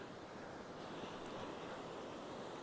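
Ocean surf washes up on a shore as a continuous broadband roar, loud and close, mixed with wind buffeting the microphone and no talking.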